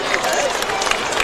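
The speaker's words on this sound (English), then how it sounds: "let's give him a hand of applause" Stadium crowd at a high school football game between Holy Cross and Edna Karr applauds an injured junior defensive lineman, a steady broadband wash of clapping and crowd noise over 1.3 s with talk mixed in.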